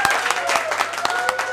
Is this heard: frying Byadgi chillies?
no